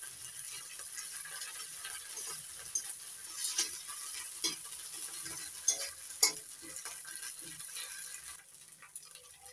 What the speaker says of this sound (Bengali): পেঁয়াজগুলো একটু ভেজে নিয়ে এবার দিয়ে দিচ্ছি আদা বাটা